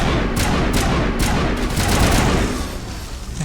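Assault rifle fire in the video game Mass Effect, a dense loud burst of rapid shots running almost continuously and thinning out toward the end.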